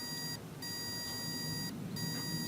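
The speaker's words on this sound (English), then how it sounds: "It will make a buzzing sound, it will make beep beep beep" Continuous high electronic beeping tones from a battery charger working on a dead flat car battery, with two short gaps, steady and close.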